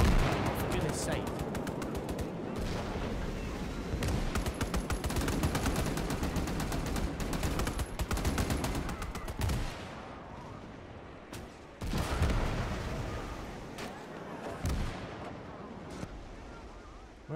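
Dense bursts of gunfire and heavy booms from an active gun emplacement in an Iwo Jima battle game with naval gun clearance, loud and rapid for about ten seconds, then thinning to sporadic shots, with a voice talking over parts.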